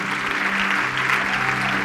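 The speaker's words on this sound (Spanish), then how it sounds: "Dale un aplauso fuerte." Applause from a church congregation after a closing prayer, a steady dense wash of clapping filling the whole moment, fairly loud and even throughout with no talk over it.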